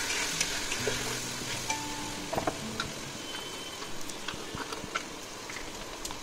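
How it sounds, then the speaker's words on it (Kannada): Spices and chilli powder fry and get stirred in a pan for vegetable pulao, giving a steady close sizzle broken by scraping spoon clicks and stirs. "ಸ್ವಲ್ಪ ಹೊತ್ತು ಫ್ರೈ ಮಾಡಿ"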